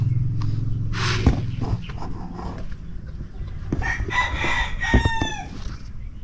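Pet chickens, including brooding hens, cluck and murmur close by, with a rooster-like crow rising partway through and rustling in the background.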